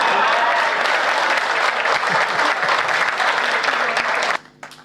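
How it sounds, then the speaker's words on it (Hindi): An audience at a Hindi comedy poetry gathering claps in sustained, dense applause for several seconds before it cuts off sharply near the end. "परिवर्तन अच्छा हो गया हो तो तालियां सुमित के लिए बजा सकते हैं आप"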